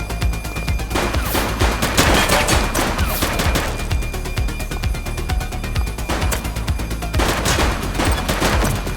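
Loud, dense gunfire in the police video game The Precinct: rapid overlapping shots and bursts pour out continuously with no pauses.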